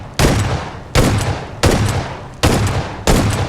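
Shotgun fire in a first-person shooter video game: five loud, sharp blasts spaced roughly evenly under a second apart, each ending in a short decaying tail, with no talking.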